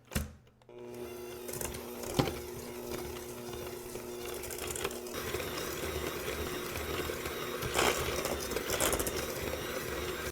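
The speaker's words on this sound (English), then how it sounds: "So we'll just mix those together until light and fluffy." Electric hand mixer steadily beating canola oil into a chocolate pistachio loaf batter in a bowl, a continuous whirring motor drone with faint scraping, close and moderately loud.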